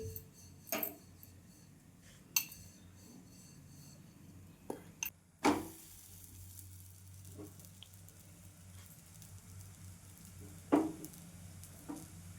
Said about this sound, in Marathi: छान भाजून घ्यायचं तेल टाकून थोडं कमी गॅसवरच